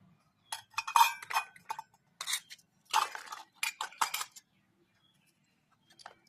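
Plates and dishes being handled in a home kitchen: bursts of ringing clinks and clatter come close together, with a few quieter knocks trailing off near the end and no talk.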